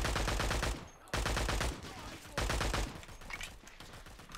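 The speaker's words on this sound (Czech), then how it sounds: "Něco střílí za náma furt." Gunfire in the Vietcong video game rattles in fast repeated bursts and sharp shots, moderately quiet and mixed with other game noise, with no voices over it.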